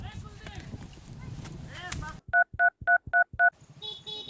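Telephone keypad dialing tones, six short evenly spaced beeps in quick succession, loud and close, following a stretch of talking and room noise, with more speech resuming right after.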